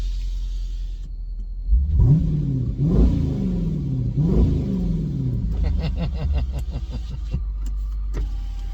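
A 2017 Dodge Durango R/T with a Mopar upgrade exhaust revs three times in a row, each deep burst rising and falling over a steady idle rumble. A window motor whirs near the end.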